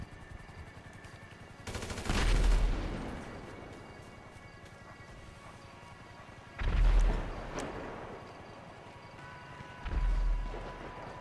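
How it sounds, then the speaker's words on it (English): Gunfire in GTA 5: three separate loud bursts of rapid shots, each lasting about a second, separated by quieter stretches of ambient game sound. "Oh, gunfire."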